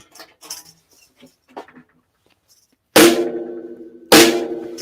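A snare drum damped with tambourines laid on its head, hit twice loudly with shorter, jingly decay, after a few soft clicks and taps at close range.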